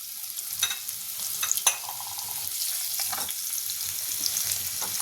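Steady crackling sizzle of cumin, mustard seeds, asafoetida, curry leaves, garlic and turmeric in hot oil, with a few quick stirring clinks near the start.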